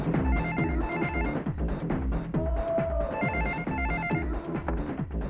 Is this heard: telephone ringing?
yes